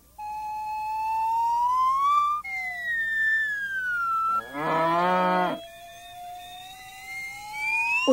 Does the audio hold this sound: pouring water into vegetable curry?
no